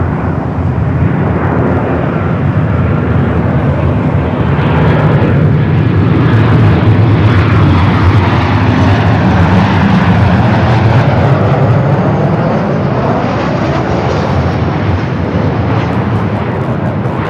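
A 29-year-old Delta Boeing 757-200 taking off at Los Angeles LAX, with a loud, sustained jet-engine roar that stays powerful and continuous throughout.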